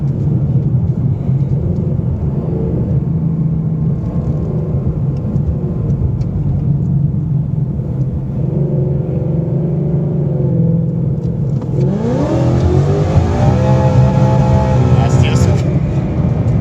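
Whipple-supercharged 2018 Mustang GT on drag radials, rumbling at a steady idle before launching. The engine climbs abruptly and the rear wheels spin, all loud and close.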